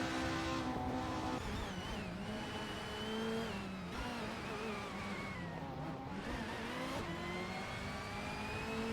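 Racing car engines rev and whine in a BTCC video game race, several pitches rising and shifting together at a steady moderate level, with no break in the engine noise.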